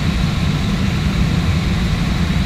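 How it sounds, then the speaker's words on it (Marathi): An airliner taxis after pushback on a flight from Pune to Hyderabad, heard as a steady, loud low engine rumble with an even broadband hiss that holds without a break throughout. "पुशबॅक कंप्लीट झालेला आहे. टॅक्सीवर चाललो आहे."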